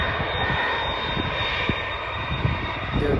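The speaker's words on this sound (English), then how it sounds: "There's the A330 coming close." Airbus A330 airliner approaching to land at Schiphol airport, a steady broad jet roar with a hissing whine, fairly loud and constant at a distance, without talk.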